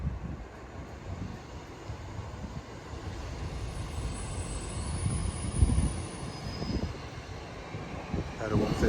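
A train rumbles and rolls at a British railway station on a holiday trip through Devon and Welshpool, a steady broad noise with low thumps and a brief squeal near the end, with people talking faintly nearby.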